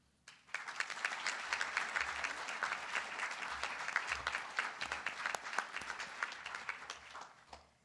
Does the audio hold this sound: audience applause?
yes